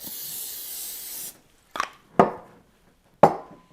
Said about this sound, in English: We're going to spray the top of it